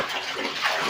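Water gushing and splashing steadily into a basin for washing finished cross stitch pieces, a continuous close rush with no talk.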